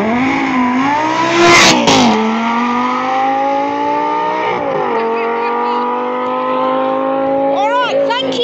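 A Lamborghini supercar pulls away from the Hop Pole Supercar Meet in Retford, its loud engine revving hard and climbing through rapid gear changes, with a brief burst of crowd noise early on.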